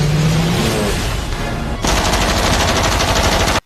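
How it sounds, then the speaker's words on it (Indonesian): Loud, dense gunfire in a film scene, with shots fired at a boat. Rapid bursts run continuously and then stop abruptly. "Namun, Gag menembakinya."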